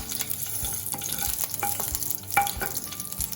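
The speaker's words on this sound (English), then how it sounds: "Once the oil is heated, let's put some mustard seeds, followed by some curry leaves." Mustard seeds and curry leaves fry in hot oil for a South Indian brinjal curry, a close, steady sizzle with scattered crackles and pops and a few soft stirring scrapes, no talking.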